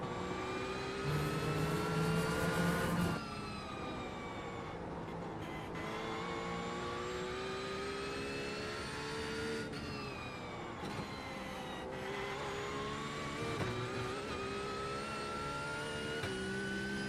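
A GT3 race car engine in the iRacing simulator screams steadily at high revs around the Nurburgring endurance circuit, with gear-change dips and pitch sweeps as it laps, continuous and loud with no talking.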